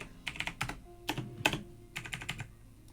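Keyboard shortcuts are tapped in quick bursts on a computer keyboard during video editing, crisp clicks in clusters of two or three with short pauses between, close and clear with no voices.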